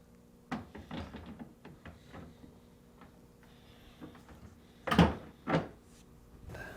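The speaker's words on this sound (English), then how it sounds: "To install the freezer door, align the hanging tabs near the bottom of the door to the slides" A Whirlpool French door refrigerator's freezer door is fitted onto its slides and hanging struts, with a string of soft knocks and taps followed by two louder clunks near the end, close by with no talking.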